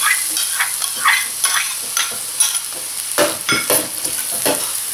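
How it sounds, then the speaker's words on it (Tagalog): Garlic and onion sautéing in a pan for crab in coconut milk, a steady bright sizzle with repeated scraping stir strokes, close and fairly loud, no talk. "gigisa na tayo. So, yung garlic, ating onion,"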